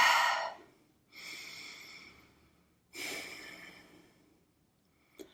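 Slow, deep breaths during a yoga session: three distinct airy exhalations or inhalations about a second apart, close and fairly loud, with quiet pauses between and a brief click at the end.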